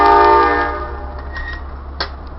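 A train passing at night, its loud horn blaring first and then fading into a steady rumble of rail cars with a brief clank near the end.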